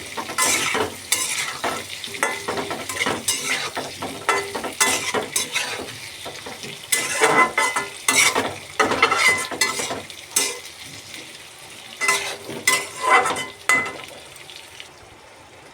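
Potatoes sizzle in a hot pan while a spoon stirs them in repeated scraping strokes and metallic clinks, a busy uneven rhythm over a continuous frying hiss, close up and with no talking.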